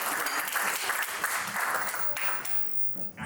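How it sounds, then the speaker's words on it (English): An audience applauds for Pankhuri at a live blockchain and Web3 panel event, a dense, steady round of clapping that fades slightly near the end. "So we get a round of applause for Pankhuri."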